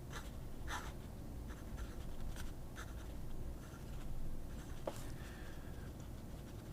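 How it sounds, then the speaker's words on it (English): A wood-barrel fountain pen, model 58, scratches across paper in quiet, close strokes with short bursts and small pauses, no voices. "Now let's just take a look at the writing."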